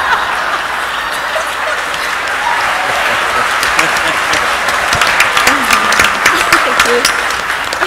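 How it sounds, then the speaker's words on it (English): Audience applause at a corporate celebrity tic tac toe game show, a steady wash of many hands clapping throughout, fairly loud and close, with sharper individual claps and faint voices mixed in toward the end. "Are you clapping for me or you?"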